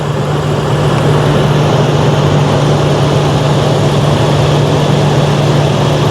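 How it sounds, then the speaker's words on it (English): Engine of an abandoned limousine running steadily after being revived, a loud continuous rumble with a constant low drone and broadband noise throughout, no variation in pace. "Actually, the engine sounds really healthy."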